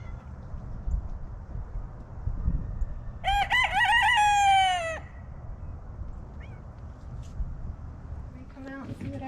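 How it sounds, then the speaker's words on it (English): A silkie rooster crows once, a short wavering call rising above quiet farmyard ambience, with faint rustling before and after. "Hopefully we can get him on camera doing his little crow."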